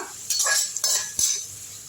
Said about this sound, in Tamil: கருவேப்பிலை போட்டுக்கலாம் எடுத்து சேர்த்து வதக்கி விட்டுருவோம்